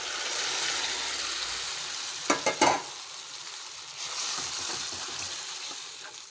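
Cooked dal stirred into a simmering fenugreek sambar: a soft steady sizzle with a few sharp spoon clinks against the pot midway, no talking.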